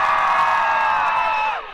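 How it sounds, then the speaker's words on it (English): A large crowd of students at a high school walkout against gun violence cheers and shouts, a dense sustained roar for nearly two seconds before it tapers off. "You can hear the crowd."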